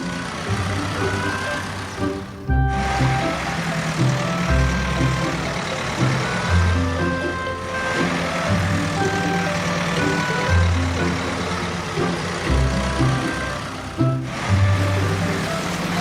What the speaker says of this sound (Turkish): Traktörlerin üçü de hangardan çıkıyor.